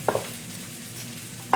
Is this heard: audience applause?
no